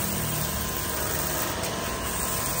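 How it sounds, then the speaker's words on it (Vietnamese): A 5 hp single-phase 220 V high-pressure pump with an OK 511 head and 22 mm ceramic pistons, rated 80 bar, runs with a smooth, steady mechanical hum, heard close for a few seconds without speech. "máy chạy rất là êm luôn"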